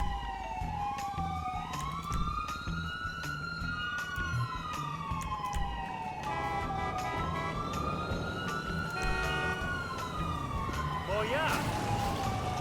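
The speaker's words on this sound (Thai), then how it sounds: "ตอนนี้นะครับเราก็จะเห็นว่ารถพยาบาลนะครับก็ได้มาแล้วนะครับ" Ambulance siren in the GTA V video game, a rising and falling wail repeating in long sweeps as the vehicle arrives, fairly loud over engine rumble, with someone talking alongside.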